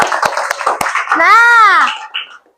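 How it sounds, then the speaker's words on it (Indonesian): Children in a primary school classroom clap together in a short, dense burst of close applause, followed by a rising cheerful group shout of young voices. "Tepuk tangan untuk hari ini."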